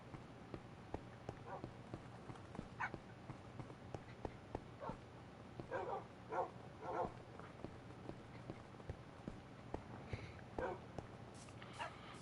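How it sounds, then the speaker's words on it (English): Dogs in the video game Minecraft, a small pack of tamed dogs, give short scattered barks and yips amid soft footstep-like thuds and game noise, fairly faint over about twelve seconds. "Little army of dogs, I don't think I'll have a problem now."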